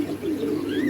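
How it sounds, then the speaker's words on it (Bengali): A pair of large red Bombay pigeons cooing up close, a low, warbling, continuous coo that fills the short moment alone. "দেখতে পাচ্ছেন এক জোড়া বোম্বাই কবুতর, বিশাল বড় সাইজের, লাল টকটকা"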